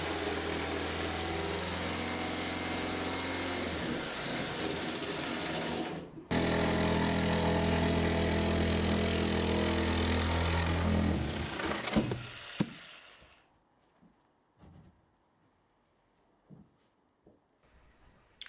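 A power saw fitted with its standard 6-inch wood-cutting blade slices through wood, a loud sustained whine and grind running steadily for about twelve seconds with a brief break partway, then cutting off into quiet with faint handling clatter.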